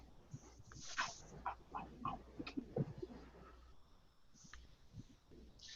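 A dog whimpers and makes short vocal sounds in a few irregular bursts, fairly close, over a steady low background hum.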